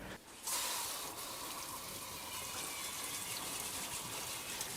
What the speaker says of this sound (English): Gonna give her a quick rinse in the sink